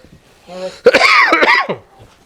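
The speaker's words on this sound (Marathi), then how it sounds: "मला खोकला येऊ राहिला 2 दिवसापासून" A single harsh, close cough bursts out after a short vocal sound, then fades into quiet; the cough has lasted two days.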